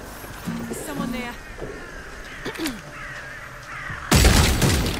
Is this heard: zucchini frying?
no